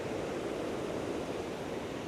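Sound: waterfall with people bathing

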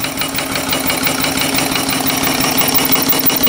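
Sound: live steam engine running on a boiler

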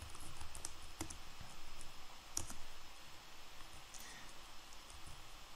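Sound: typing on a computer keyboard

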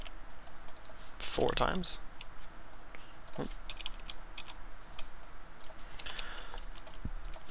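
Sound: computer keyboard typing while copying and pasting code

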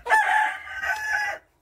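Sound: Brahma rooster crowing

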